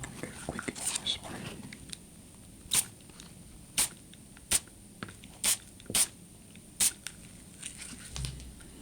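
Quick short bursts of a spray can hiss while an N64 controller is cleaned, about six sharp puffs spaced roughly a second apart, close and crisp, following soft rustling and handling noises.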